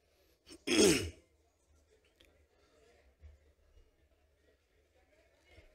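One loud, rough throat clearing near the start, followed by quiet breathy sounds and faint low rumbles in an otherwise hushed room, from a man with a hoarse voice before addressing a party workers' gathering.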